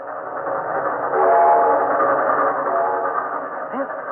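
A train rolls along a railroad in 1940s China, a steady rumbling rush that swells in the middle and stays moderately loud throughout, with a brief tonal whistle-like sound near the end.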